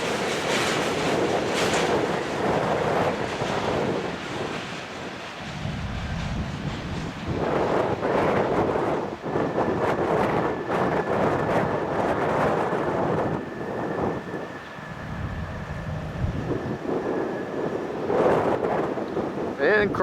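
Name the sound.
strong wind blowing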